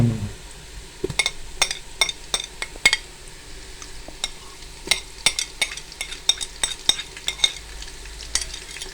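Onion fried golden with garlic and ginger sizzles steadily in a pan while a utensil stirs and scrapes against the metal in rapid, irregular clinks, close and fairly loud, with no talking.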